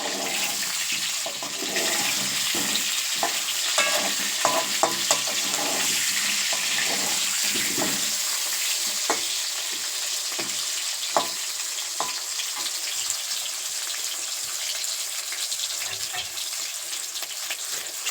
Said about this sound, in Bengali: চিকেনের আলুটা ভেজে নিই